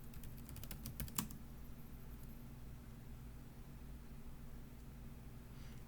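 A computer keyboard is typed on while a password is entered during a development setup. A quick run of close clicks comes in the first second, then only faint steady hiss remains.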